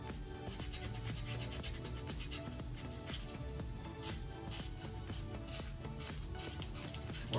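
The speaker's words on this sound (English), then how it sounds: "it's like a toothbrush, sanding toothbrush" Quick, rhythmic scrubbing strokes of a sanding toothbrush rasp steadily up close on a cosplay prop, a dense repeated rubbing sound like fine sanding.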